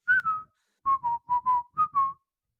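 A single person whistles a melodic phrase from a song: one longer note pair, then four short paired notes with brief pauses, clear and close with no talking.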